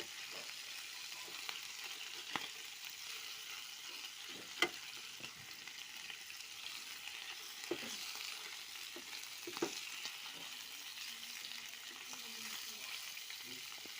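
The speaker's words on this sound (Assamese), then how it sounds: "হালধি অলপ লগাই পিনি এনেকৈ ফ্ৰাই কৰা হৈছে।" Turmeric-coated fish frying in hot oil, a continuous fine crackling sizzle with occasional louder pops, steady and fairly quiet throughout, heard alone.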